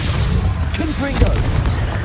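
A Confringo blasting spell goes off in Hogwarts Legacy, a deep booming explosion that rolls out around the middle of a continuous rumbling game soundscape, with a voice speaking over it.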